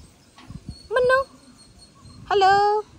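A husky dog whimpers in two distinct high, wavering whines, each roughly a third of a second long, close by with faint sounds between them.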